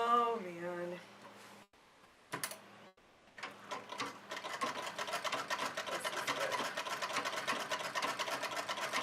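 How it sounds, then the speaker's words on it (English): A sewing machine stitches stripes with a fast, steady mechanical whir and rapid needle clatter that runs continuously through the second half, after a brief voice and a few short starts. "I'm just sewing stripes and sometimes not even looking at what I'm sewing today"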